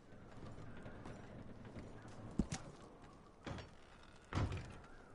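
A few heavy hoof thuds and shuffling clops of horses in the video game Red Dead Redemption 2 sound close by over a quiet ambient background, with no talking.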